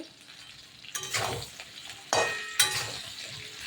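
Taro stolons (lotis) with turmeric and salt are stirred in a hot pan, with two or three bursts of sizzling and spatula scraping rising over a quiet background, each fading slowly.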